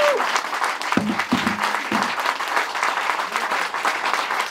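Applause from the crowd at the end of a jazz concert in a music venue, a dense, steady wash of clapping with a few low voice sounds near the start.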